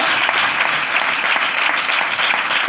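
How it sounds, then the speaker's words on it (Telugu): A church congregation claps loudly and steadily, a dense, continuous wash of many hands that holds at full volume throughout. "చప్పట్లు కొడుతూ దేవుని నామమున కనపరచాలి"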